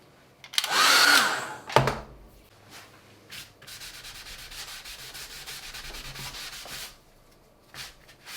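A hair dryer blows over a large abstract watercolour painting in short bursts: a loud rushing blast, then a quieter steady whoosh, mixed with rubbing and shuffling sounds at close range.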